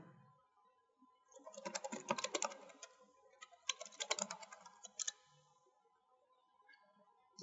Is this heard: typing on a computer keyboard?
yes